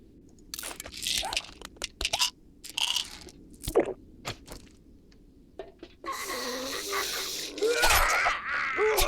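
A character drinks in the survival game 7 Days to Die, with gulping and crunchy game sound effects in bursts, then a louder sustained swallowing sequence near the end, no talk.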